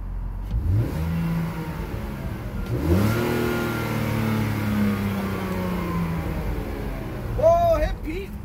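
A 2004 BMW Z4 2.5i convertible with 51,323 miles fires up with a quick crank, then its exhaust sweeps through loud, rising revs and settles back toward idle, close and strong.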